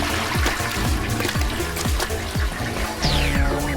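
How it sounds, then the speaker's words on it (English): A cartoon toilet flushes in an animated scene, a loud continuous rush of swirling water with gurgling drips and a rising whistle-like swoosh near the end. "You could at least remember to flush."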